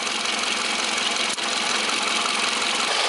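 A car engine idles steadily during an air conditioner recharge, a close, even hum with one brief click-like dip, and no voices.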